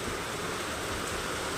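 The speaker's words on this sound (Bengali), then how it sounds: "বৃষ্টির আওয়াজ" Steady rain falls outside at night, a dense, even hiss of drops hitting the ground with no break and no voices over it.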